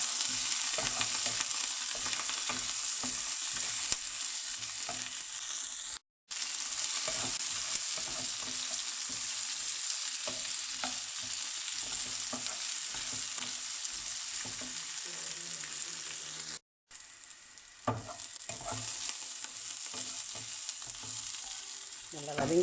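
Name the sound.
sautéing onions and curry leaves in pan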